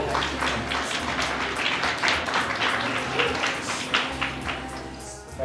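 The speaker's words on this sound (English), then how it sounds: "Okay, one round of applause," Wedding guests at a reception in Phuket clap in a round of applause with distinct individual claps, close and moderately loud. A low music bass line runs beneath, and faint voices mix in throughout.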